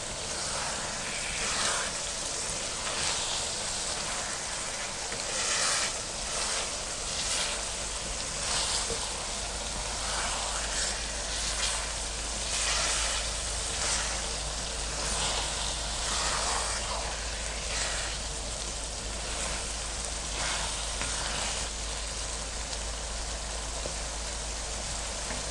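A spoon stirs masala for a matar fish curry in a pan, making a continuous loud sizzle with repeated soft scraping strokes that keep coming for a long stretch.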